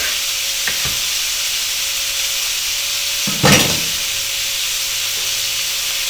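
Bacon sizzles steadily in a pan for a quiche, a dense continuous crackle and hiss with a few brief clatters of a utensil stirring through it, no voices.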